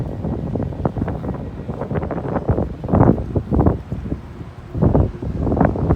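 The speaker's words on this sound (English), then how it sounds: "Sorry about the wind blowing." Gusty wind buffets the microphone, producing continuous low rumbling and irregular thumps that swell and fade over several seconds.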